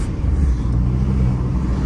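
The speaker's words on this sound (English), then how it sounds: "The car drives well, really." A Skoda Fabia drives along a road, giving a steady, quiet low rumble of engine and tyre noise from inside the car, with no talking.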